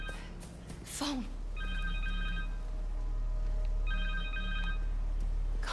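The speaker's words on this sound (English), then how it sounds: "Connor's cell phone." A cell phone rings in Marvel's Spider-Man 2 video game, two bursts of a bright electronic ringtone over a low game ambience, following a brief whoosh at the start.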